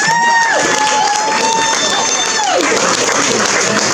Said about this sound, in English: Please give everybody a big round of applause.